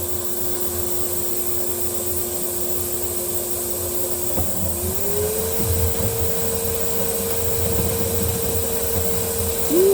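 A 3D printer prints at 0.1 mm layer height with a steady whirring hum and a rough grinding tone, its stepper pitch shifting midway and rising in a brief sweep at the end, sounding strained and unhealthy.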